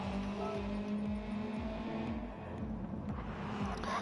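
A Subaru WRX race car engine in Gran Turismo 7 during online Gr.3 lobby racing, droning steadily with repeated rising rev sweeps as it accelerates through gear changes, loud and continuous with no talk.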